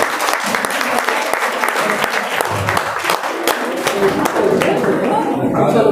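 Loud, sustained applause from a crowd at a Teachers' Day cake cutting ceremony, many hands clapping continuously with voices mixed in throughout the burst.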